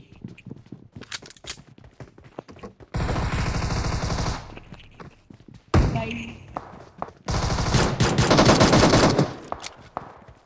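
Automatic gunfire in a PUBG match at Pochinki, heard as loud, dense bursts separated by quieter gaps: one long burst, a short sharp volley, then another sustained stretch of rapid shots.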